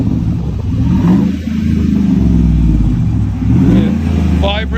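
A Ford Expedition with a 5.4L V8 and a Vibrant exhaust revs up and settles back in a few swells. The engine rumbles deep and loud close by, with a voice speaking over it.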